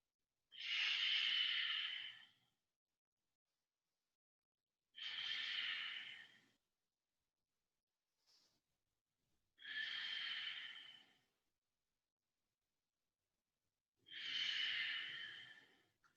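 Slow, deep breaths during an advanced yoga pose: four long airy exhalations about four seconds apart, each lasting around two seconds, close to the mic and otherwise silent between them.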